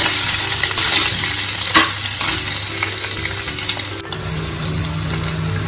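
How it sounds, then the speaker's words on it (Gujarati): Potatoes fried in oil while being stirred: loud, close sizzling with scraping stir strokes and occasional clunks, a brief dip near the end as the pan is handled, without speech. "આ રીતના આપણે તેલમાં શેકાવા દેવાના છે 5 મિનિટ સુધી. અને આ રીતના હલાવતા રહેવાનું."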